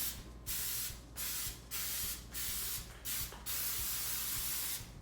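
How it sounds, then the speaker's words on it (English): Cooking spray is applied into a 13 by 9 baking pan in a series of six short hissing bursts, close and fairly soft, separated by brief pauses, with no talking. "a 13 by 9 pan, we're gonna spray it"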